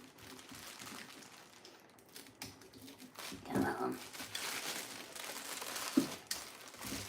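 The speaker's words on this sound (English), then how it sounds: "I'll have to cut the plastic." Plastic wrapping being pulled tight and crinkled, with irregular rustling and crackling bursts that grow louder toward the end, under occasional talk.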